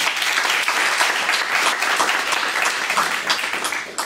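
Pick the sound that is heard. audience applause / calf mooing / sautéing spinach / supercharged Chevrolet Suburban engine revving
audience applause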